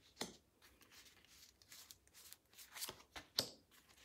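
Tarot cards being shuffled for a reading, a faint, close, uneven run of papery riffles and slaps with a few sharper snaps.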